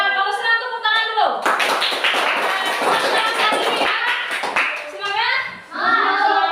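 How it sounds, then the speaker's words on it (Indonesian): Schoolchildren in a classroom clap their hands in a quick, uneven burst, framed by a teacher's voice talking before and after. "Kalau senang tepuk tangan dulu."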